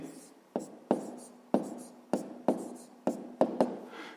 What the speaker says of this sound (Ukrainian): Ну що ж, записуємо тоді відповідь.